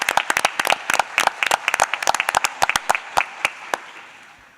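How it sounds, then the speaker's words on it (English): Scattered applause at a school board meeting, a modest crowd clapping in sharp, uneven bursts that thin out and trail away toward the end. "Let's give her one more round of applause as she heads back to her seat."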